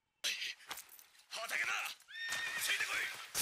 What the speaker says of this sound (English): Is there a horse?